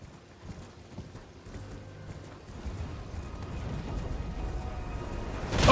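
Horse hooves clip-clop in a steady galloping rhythm in Elden Ring, a dense patter that builds louder toward the end with no talk over it.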